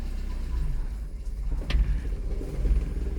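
A 1998 Mazda 626 idles in drive with a rough, trembling engine, giving a steady low rumble that pulses unevenly, with a brief sharper click partway through.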